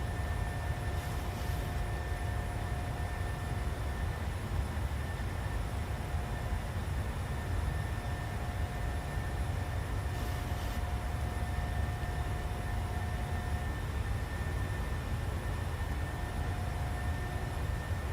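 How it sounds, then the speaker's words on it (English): Continuous jet engine roar and cabin hum from a PMDG Boeing 737-700 in a flight simulator, accelerating after takeoff, steady and unvarying for the whole stretch, with faint tonal whines and no talk. "Aircraft's going to accelerate to 250 knots."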